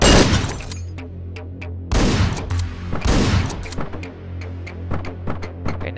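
Repeated shotgun blasts from the top-down shooter Hotline Miami 2, several loud bursts in quick succession over a steady low hum, with sharp clattering impacts and shattering between shots.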